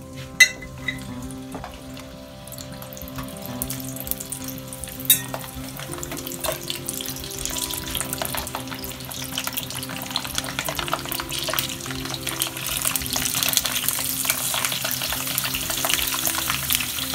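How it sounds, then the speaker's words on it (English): Gluten-free corn nuts fry in a hot pan heated to about 350, giving a steady crackling sizzle that grows slightly denser over time, with a couple of sharp clinks near the start. "So we let this fry to 3 to 4"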